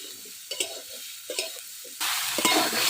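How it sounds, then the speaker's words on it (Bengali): Soybean chunks fry in a small amount of oil in a pan, scraped and turned with a spatula in a few distinct strokes. A louder, dense sizzle then takes over for the last second. No one speaks. "একবারে পুরো লাল লাল করে ভেজে নিচ্ছি।"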